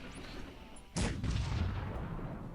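Cannon artillery fire in the strategy game Cossacks 3 erupts as a sudden loud boom with a sharp crack, followed by sustained rumbling battle noise and overlapping blasts that persist to the end.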